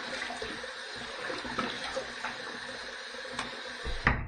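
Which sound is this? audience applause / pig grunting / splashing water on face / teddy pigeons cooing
splashing water on face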